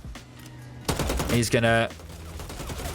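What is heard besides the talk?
gunfire in Bloodhunt video game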